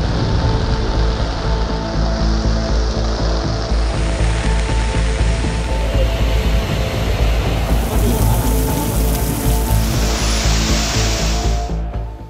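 Heavy rain pours down steadily in a loud, dense wash that holds even from start to finish, with a low, constant rumble underneath.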